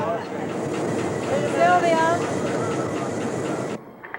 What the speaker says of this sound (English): This is the San Diegan. Amtrak San Diego to Los Angeles local.